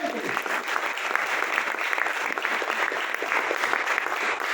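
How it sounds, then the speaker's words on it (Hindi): A seated audience at a business motivational gathering in a wedding hall gives loud, continuous applause, a dense wash of many hands clapping that holds steady throughout, with faint voices underneath. "जोरदार ताली हो जाए।"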